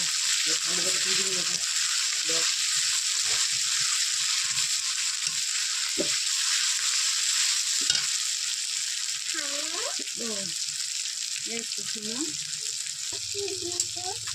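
Mutton curry being sautéed in a pan with dried red chilli paste and spices, a constant bright sizzle running throughout with occasional stirring knocks, while someone talks over it in the background.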